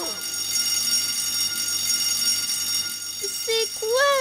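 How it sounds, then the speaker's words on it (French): A school fire alarm in a cartoon classroom rings as a continuous high electronic tone, sustained and fairly loud, with brief cartoon voices or sound effects breaking in near the end. "Écoutez tous, ça c'est l'alarme d'incendie."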